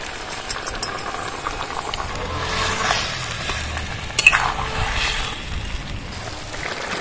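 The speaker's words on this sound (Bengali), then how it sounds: "ভাজা মাছগুলো ঢেলে দেবো।" Fried small hilsa pieces are tipped into a thin curry and stirred, producing a steady close sizzle with scraping and a brief louder splash and clatter partway through.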